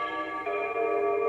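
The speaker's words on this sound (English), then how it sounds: "That's my doorbell." A home doorbell chimes in sustained, bell-like tones, with a second tone joining partway through and ringing on steadily, fairly close and with no talking.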